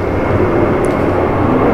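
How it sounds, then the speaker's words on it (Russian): An airplane flies overhead, a loud, steady roar of engine noise that fills the clip without fading, with a brief faint high chirp partway through. "Самолет летит."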